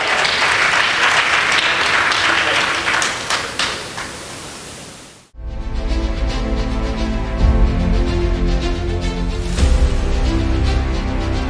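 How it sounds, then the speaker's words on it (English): An audience at a gala gives a big round of applause for Anu Malhotra, with dense, loud clapping that tapers off and cuts out about halfway through, followed by music. "Big round of applause for Anu Malhotra."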